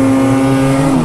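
A snowmobile engine idles with the throttle out, giving a steady, close, loud droning hum with even harmonics and no revving.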